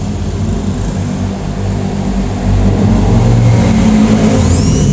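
A mini electric drill from a 109-piece grinding set is switched on and runs with a loud, steady motor whir that steps up slightly in strength partway through. No one talks.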